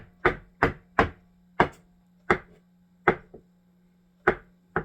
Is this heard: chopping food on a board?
yes